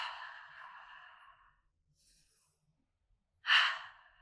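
Slow breath-work breathing, a long audible exhale through the mouth fading out, a pause of near silence, then a sharp louder inhale, close and alone with no talk.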